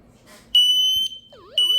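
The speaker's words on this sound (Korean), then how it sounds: "연기 감지 센서가 제대로 동작하는지 테스트를 한번 해보도록 하겠습니다" A smoke detector under test sounds a loud, piercing electronic beep in a sustained burst, then gives way to a warbling wail before the shrill tone returns.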